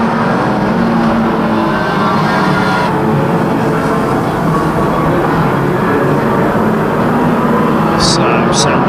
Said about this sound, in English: Got on the way with the 1300 stock cars in heat number two of the evening.